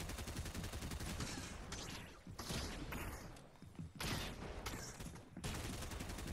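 Enemies shooting at the player in Fortnite: dense, continuous bursts of gunfire with thuds and mechanical clatter, loud and close, broken by a few short gaps over several seconds, with no speech.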